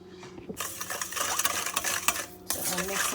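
Utensil stirring sugar, butter, sunflower oil, salt and milk together in a bowl for homemade croissant dough, a busy scraping and clinking that starts after a quiet half second and carries on steadily up close.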